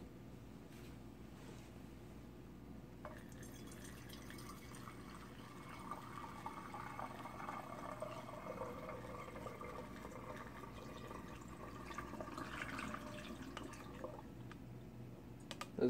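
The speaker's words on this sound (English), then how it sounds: "I'm going to start by adding 500 milliliters of toluene." Toluene is poured into a 500 millilitre flask sitting on a hot plate in a home lab, making a faint, steady trickle whose pitch gradually rises as the vessel fills.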